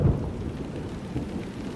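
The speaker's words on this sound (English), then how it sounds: "And it's starting to rain right now." Rain and rolling thunder from the video game Xenosaga II: a low, continuous thunder rumble over steady rainfall, fairly loud and with no voices.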